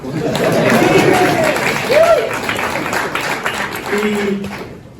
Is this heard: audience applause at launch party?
yes